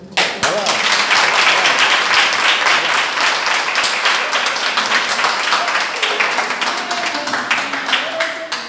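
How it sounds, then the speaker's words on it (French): An audience at the Ivoire Couture fashion show applauds steadily and loudly, a dense wash of clapping throughout, with voices talking faintly underneath. "Là, ça s'applaudit, hein?"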